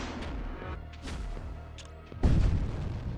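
The destroyed devil ship explodes in Void War, a sudden loud boom near the end, preceded by scattered thuds, pops and laser-like combat effects.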